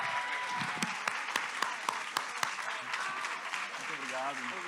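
Audience applause welcoming Patrícia Hill Collins at a book fair event, a dense, steady round of clapping from a crowd with sharper individual claps standing out and a voice briefly audible near the end.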